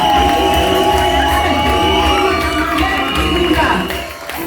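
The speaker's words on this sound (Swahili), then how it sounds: "makofi mazuri katika Yesu" A church congregation cheers and shouts together, loud and sustained, with excited voices and whoops blending into one continuous crowd roar that fades slightly at the end.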